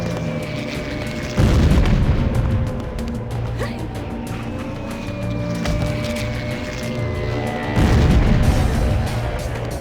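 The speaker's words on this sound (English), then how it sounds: "They're bombing the area, that's not good." Bombing explosions in the video game BloodRayne, with two loud deep booms a few seconds apart over a rumbling battle backdrop and whistling tones, close and heavy.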